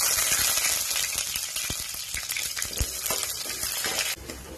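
Sliced onions drop into hot oil with mustard seeds in a pan, bursting into a loud, close, continuous sizzle with scattered crackles and pops.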